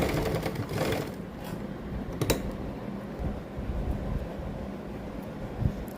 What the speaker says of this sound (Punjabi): ਇੱਥੇ ਆਪਾਂ ਡਬਲ ਸਲਾਈ ਕਰ ਦਾਂਗੇ